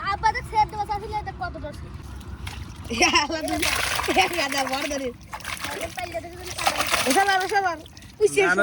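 Water splashing and sloshing as village boys bail water from a muddy pond during traditional mud fishing, with loud splashes in bursts under shouted talk.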